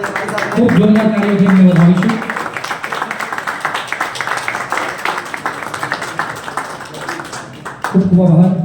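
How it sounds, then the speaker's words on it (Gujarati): Dense, sustained audience clapping welcomes guests at an Omkar Kala Vidyalaya arts school event in Deesa, filling the middle of the clip, with a speaking voice before and after the applause. "ખૂબ જોરદાર તાળીઓથી એમને વધાવીશું."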